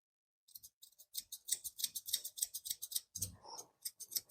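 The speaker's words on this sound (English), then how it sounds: "I'm going to take my thinners and I'm going to trim to expose the corner of the eye" Thinning scissors trim the coat of a Kerry Blue Terrier near the eye, giving a rapid, close run of crisp snipping clicks in steady rhythm, with a brief soft rustle partway through.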